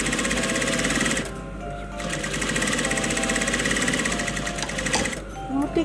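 Sewing machine running steadily while topstitching the front placket of a men's-style shirt, a close, continuous buzzing hum that pauses briefly twice before resuming.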